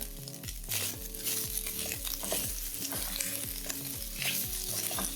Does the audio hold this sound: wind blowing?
no